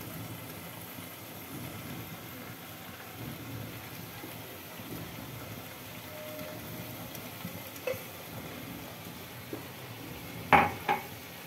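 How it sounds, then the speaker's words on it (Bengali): Spice paste is stirred and fried in a pan with a soft, low sizzle under room noise, then a few clinks of a utensil against the pan near the end. "এটাকে ভালো করে মশলাটাকে একটু কষিয়ে নিচ্ছি।"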